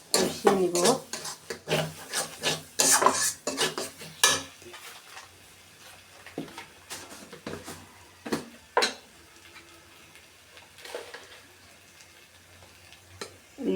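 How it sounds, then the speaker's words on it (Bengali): Chicken with spices is stirred and fried in a pan, giving close, irregular scraping rubs and clinks of the utensil against the pan, busy at first and then sparse, with no talk. "দিয়ে এটা মশলাটা একটু ভালোভাবে কষিয়ে নেব আর কি"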